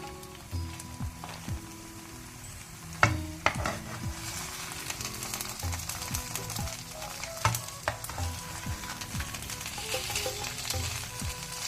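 Sardine masala pieces fry in a pan over medium-low heat, giving a soft, steady sizzle with scattered clinks and scraping sounds from the pan, and no voices.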